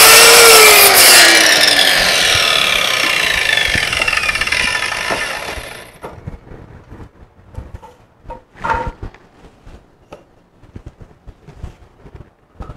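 A power saw cuts lengths of timber for the side walls of a small camping trailer, a loud continuous buzzing cut for about six seconds, then quieter scattered knocks and handling sounds of the wood.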